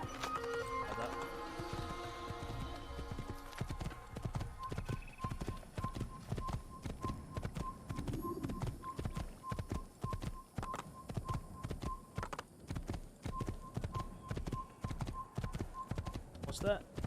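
A horse galloping in the video game Assassin's Creed, with steady rapid hoofbeats throughout, a brief whinny partway through and a low game hum running under it.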